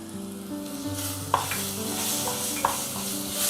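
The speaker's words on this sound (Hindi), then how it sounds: "अच्छी तरह मिक्स करती हूँ।" Spices such as ground and crushed chillies, turmeric and garam masala being stirred into brinjal bharta in a hot pan: a close, steady sizzle with a couple of sharp scrape-clicks from the spoon.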